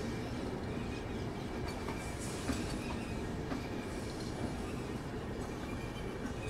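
The Delhi Mumbai Duronto Express, an Indian Railways train with LHB coaches, rumbles along at speed, a dense continuous roar with rhythmic wheel clatter and occasional rattles, heard close from on board without talk.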